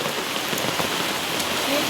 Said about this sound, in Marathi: आणि पाऊस काय थांबायचं नाव घेत नाही अजून सुद्धा